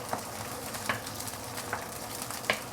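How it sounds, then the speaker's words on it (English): Chicken sautés in a pan with a steady low sizzle and soft periodic stirring scrapes, fairly quiet and close, with no voices. "let's saute this for a minute or two before we continue"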